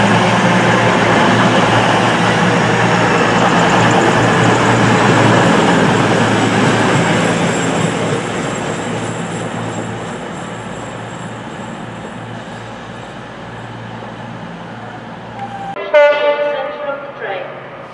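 A Class 66 locomotive passes through Telford Central station with a loud, continuous rumble and rail noise that slowly eases. Near the end come a sharp horn-like blast and some wheel squeal.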